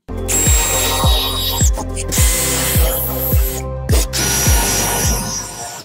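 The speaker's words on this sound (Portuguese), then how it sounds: "Com a broca Fossner né, de 2 centímetros de diâmetro, eu vou fazer um furo aqui" A power drill with a 2 cm Forstner bit boring into pine wood, running in a few bursts with rhythmic thumps as the bit bites, brief pauses between passes.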